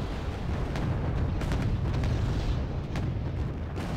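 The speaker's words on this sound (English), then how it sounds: "the T-72s here, making use of their own cannons for self-defense" T-72 tank cannons fire in a Second Battle of Kursk video game scenario, with several heavy booms and sharp blasts punctuating a dense, continuous rumble of battle, no talking.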